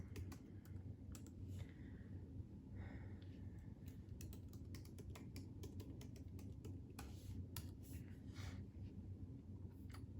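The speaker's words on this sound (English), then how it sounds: "My finger movements and the clicking is probably not going to match up with what you're seeing being typed out on screen" Rapid, quiet clicking of a computer keyboard being typed on, irregular bursts of close keystrokes with brief pauses, alone without talk.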